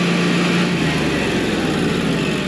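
Standby generator engine running steadily after a manual start, a loud, close, continuous mechanical drone with a faint low hum underneath and no voices.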